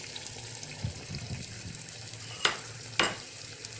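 Mutton with spiced yogurt fries in a pot, a soft steady sizzle broken by low thuds early on and two sharp spoon scrapes near the end, with no one talking.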